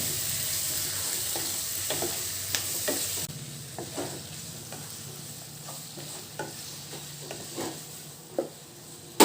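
Shrimp and squid are stirred through a hot frying pan for a marinara spaghetti, with steady close sizzling and repeated sharp scrapes and clinks of the utensil against the pan. No one speaks.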